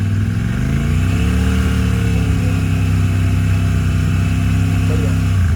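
A Royal Enfield 650 twin with its stock BS6 exhaust revs up from idle and holds a steady, loud, rumbling engine note close to the microphone.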